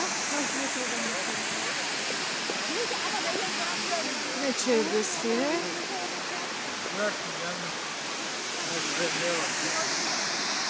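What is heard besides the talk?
Korkum waterfall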